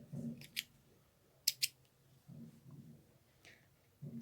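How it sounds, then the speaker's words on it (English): Scissors snip off the excess crochet yarn, giving a few quiet, crisp cuts, including a quick double snip, close up against faint handling sounds with no talking. "then I secure and I cut the excess yarn"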